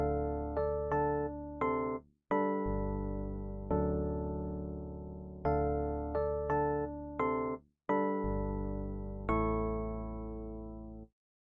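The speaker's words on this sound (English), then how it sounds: "use the root notes to lay down the bass line of our melody" Sustained piano-like notes play a simple harmonized melody with low root notes underneath as the bass line, in phrases of short and held chords, steady and fairly loud with no voices.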